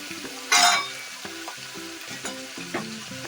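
Tomatoes and vegetables for aloo capsicum rice fry in a pan with a loud hiss as they go in, then a steady sizzle under a few spatula scrapes, close up and with no talking.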